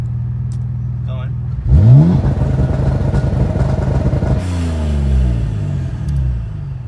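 A Mitsubishi VR4 running on E85 fuel launches from launch control: a steady idle, then the engine revs sharply upward, drops and climbs again, loud and close.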